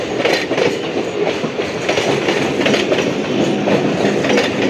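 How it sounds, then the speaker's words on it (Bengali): A Barasat–Sealdah down local train arriving on a line at a suburban station, a loud continuous rumble with rhythmic wheel clatter over the rail joints, close by and steady throughout, with no voices. "ঢুকলো ডাউনে বারাসাত শিয়ালদা লোকাল।"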